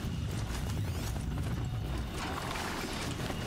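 Horse hooves in the video game Horizon Zero Dawn, a steady quick clip-clop of galloping hoofbeats at moderate level over a continuous game ambience, with no talk.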